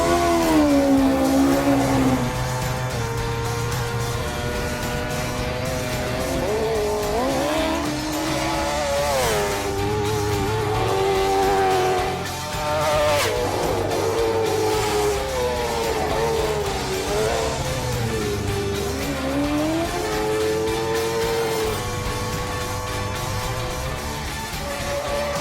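A three-wheel racing sidecar outfit's engine roars on track, a loud continuous note rising and falling through gear changes and revs for the whole stretch with no pauses.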